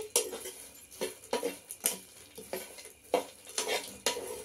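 Mettala talli powder roasts in a pan while a spoon stirs it in repeated scraping strokes, about one every half second. Faint sizzling sits under the bursts of stirring, and no one speaks.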